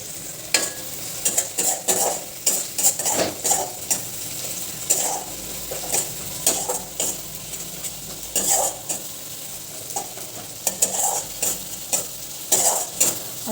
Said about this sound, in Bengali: ভালো করে ভাজবো আমি পেঁয়াজ, লঙ্কা আর টমেটো।